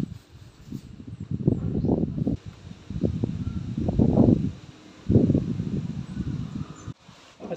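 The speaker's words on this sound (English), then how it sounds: "it's very, very windy." Strong wind during a storm in Mindanao buffets the microphone in heavy, irregular low rumbling gusts, surging and dropping away several times.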